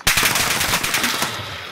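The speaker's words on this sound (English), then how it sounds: "You're getting shot in the back." Automatic gunfire in the video game Warzone, a loud rapid burst of machine-gun shots fired in quick succession that fades out over under two seconds.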